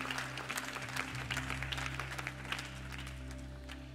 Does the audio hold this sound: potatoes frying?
no